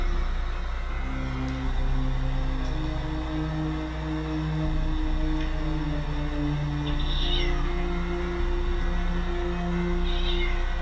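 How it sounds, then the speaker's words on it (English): A cat meows continuously at a door, its drawn-out, wavering cries overlapping one another against a steady low background hum, with no speech. "Just continuously meowing, and staring at that door."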